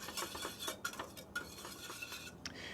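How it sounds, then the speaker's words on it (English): A whisk clinks and stirs briskly against a bowl as toasted white sesame seeds are mixed into a sauce, a steady run of light scraping and metallic taps with no talking. "Get these whisked in."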